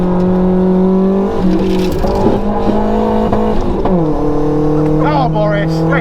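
A loud racing car engine droning steadily on track at Castle Combe, with shifts in pitch as it changes gear, while people talk over the noise inside the car.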